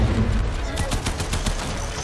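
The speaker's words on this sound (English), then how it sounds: "You can sort of shoot under his body and get his back leg, like that." Rapid gunfire from the Warframe video game aimed at a boss's back leg, a quick burst of repeated shots in close succession over game background noise.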